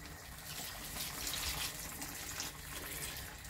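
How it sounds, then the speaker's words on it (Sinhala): Coconut milk, about one and a half cups, pours steadily into a simmering chicken gizzard and liver curry, a continuous close liquid gush lasting a few seconds with no talking. "දැන් මම මේකට එකතු කරගන්නවා පොල් පිරි කෝප්ප හමාරක් දෙයක් විතර."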